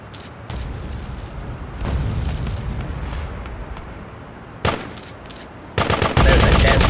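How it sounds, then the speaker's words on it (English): Machine gun bursts and rocket launcher blasts in the GTA2 video game: scattered sharp gunshots and booms, then a dense rapid volley of loud automatic fire near the end. "Machine gun, rocket launcher."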